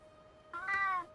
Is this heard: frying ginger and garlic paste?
no